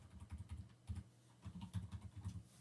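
Quiet typing on a computer keyboard while code is entered, a steady run of soft, clicking keystrokes in small clusters with brief pauses between them, heard alone without talk.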